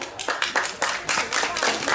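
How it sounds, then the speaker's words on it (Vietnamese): An audience at a Catholic youth worship gathering claps steadily to welcome dancers from the Galati deanery, a brisk, even rhythm of many hands, fairly close and sustained throughout. "Chúng tôi đang vỗ tay chào đón các bạn đây."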